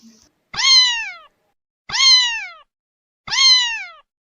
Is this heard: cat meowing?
yes